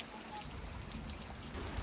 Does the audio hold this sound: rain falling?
yes